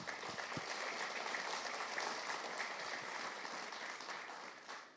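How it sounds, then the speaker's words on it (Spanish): A church congregation claps together after a prayer, a continuous, fairly soft wash of applause heard from a distance, steady throughout and fading a little at the close. "Denle un aplauso al Señor."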